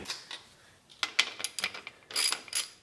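A wrench loosens bolts on the rear shock linkage of a Yamaha YZ250FX dirt bike, giving close, irregular ratcheting clicks and metallic taps in short bursts.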